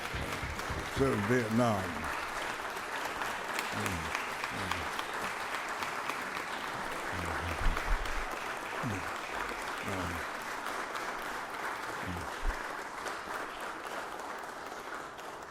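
Sustained applause fills a Georgia Senate chamber for the Sergeant at Arms, a veteran, steady and broad throughout while a voice speaks over the clapping.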